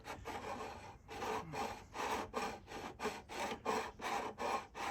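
A MusicNomad fret crown file rasps back and forth across a guitar fret in steady, evenly spaced strokes, about two per second, close and fairly loud with brief pauses between passes.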